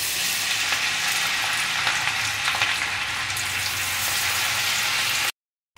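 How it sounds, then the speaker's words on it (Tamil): Fish pieces frying in hot oil in a pan, a dense, steady, loud sizzle with crackling close by for several seconds before cutting off abruptly, no voices. "இதே மாதிரி நம்ம எல்லா மீனையுமே ஃப்ரை பண்ணி எடுத்துடலாம்."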